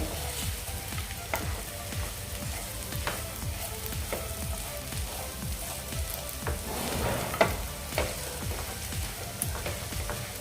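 Peanut chutney mixture sizzles and fries in a pan under steady stirring, a constant close crackle with soft scrapes of the spoon throughout.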